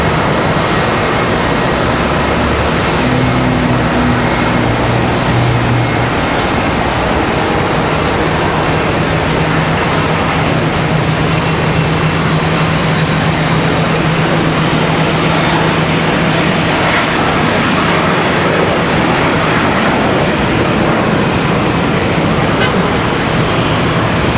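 A departing airliner at Charlotte Douglas International Airport, a loud sustained broadband jet roar filling the whole stretch, with faint low tonal hums from nearby vehicles mixed in.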